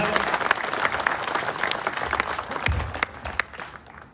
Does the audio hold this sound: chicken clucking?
no